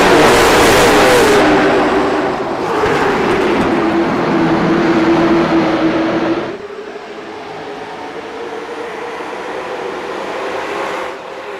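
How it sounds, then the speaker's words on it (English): Race cars at speed around USA International Speedway during a Lakeland short track event, loud roaring engines sweeping past one after another with a rising and falling pitch, then fading to a more distant drone. "Race cars about to go around the USA International Speedway at speed"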